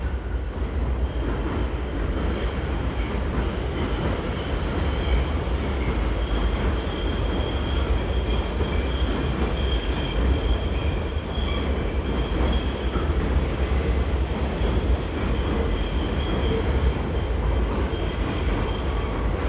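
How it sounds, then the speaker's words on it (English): A New York City D subway train rolls along outdoor tracks in Sunset Park, Brooklyn, a steady loud rumble with sustained high metallic wheel squeals that run unbroken for the whole passage. "That's the D train."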